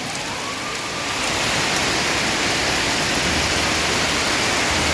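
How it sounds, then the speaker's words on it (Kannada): Heavy rain in Mangalore roars as a dense, unbroken hiss, loud and close, swelling slightly after the first second and holding steady with no voices. "ನಮ್ಮ ಮಂಗಳೂರಲ್ಲಿ ಮಳೆ ಗಾಯ್ಸ್ ಮಂಗಳೂರಲ್ಲಿ ಮಳೆ ಜೋರ್ ಮಳೆ"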